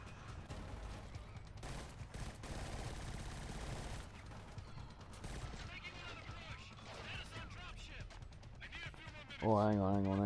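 Gunfire in the Killzone Shadow Fall shooter, sustained bursts and crackling shots over a rumbling battle bed for most of the stretch, with a loud electronic tone rising at the end.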